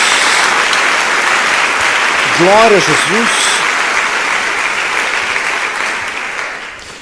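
Loud, dense applause from a church congregation praising God during a service, sustained for several seconds and slowly fading, with a voice calling out briefly partway through.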